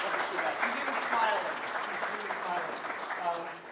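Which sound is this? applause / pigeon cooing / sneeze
applause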